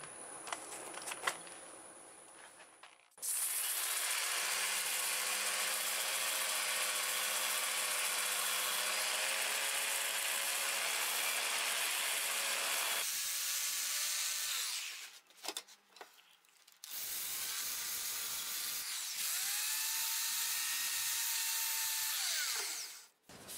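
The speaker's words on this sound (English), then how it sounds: "I'll sand in reverse at about 400 RPMs." A hardwood plum crotch bowl is sanded on a lathe turning in reverse at about 400 RPM, producing a loud, steady whirring hum with a sandpaper rasp, stopping briefly twice before resuming.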